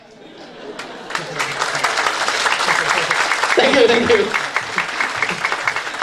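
Applause from a seminar audience at a sales talk rises and continues as scattered, fairly close clapping, with a speaker's voice and some crowd chatter over it.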